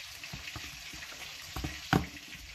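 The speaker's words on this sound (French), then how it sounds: "Un poisson frit." Tilapia fish fries in oil in a pan, a soft steady sizzle with light crackles and one sharper pop near the end, close and fairly quiet, with no talking.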